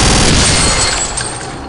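Venom gun from a Return to Castle Wolfenstein mod firing as a dense, loud rapid burst that fills the whole clip and lingers before easing slightly at the end.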